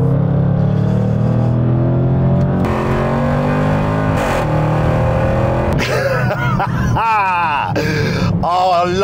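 A Mansory Pugnator SUV with a supercharged 5-litre V8 is floored from warm, its loud engine droning and then sweeping upward in pitch as it accelerates hard, with a voice groaning and speaking over it.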